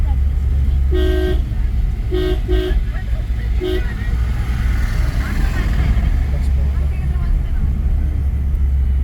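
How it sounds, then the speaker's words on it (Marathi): A car horn toots several times in short bursts, loud and close, over steady road and engine noise on the Kannad Ghat mountain road, then traffic rumble continues. "कोण हॉर्न वाजवते एवढ्या जोरात"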